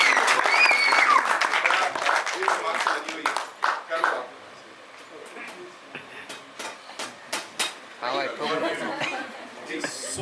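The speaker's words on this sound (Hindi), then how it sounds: "इनके लिए एक बार जोरदार तालियां." Loud audience applause at a horror film trailer launch event, first a dense burst, then scattered individual claps mixed with chatter, laughter and talking.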